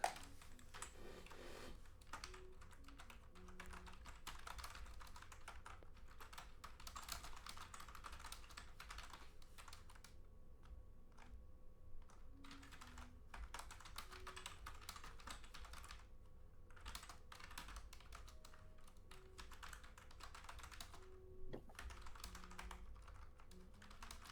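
Continuous, quiet typing on a computer keyboard, with rapid irregular keystrokes and occasional brief pauses over a soft steady background hum.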